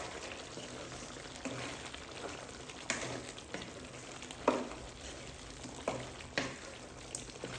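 Curry seasoned with chili powder and salt stirred in a pan, a quiet steady sizzle with occasional soft spoon scrapes and clicks, faint and close, no talking.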